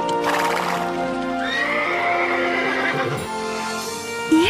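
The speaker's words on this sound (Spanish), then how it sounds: "Magníficos caballos estos ratones serán." Horses give a loud, drawn-out neigh and whinny in the animated Spanish-language Cinderella as mice are turned into horses, the call rising and trailing off with a faint hoof clatter at the end.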